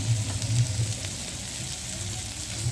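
Fresh tilapia fries in a spice mix over a village wood-fired stove, a continuous crackling sizzle with a low rumble underneath, steady and close throughout with no talk.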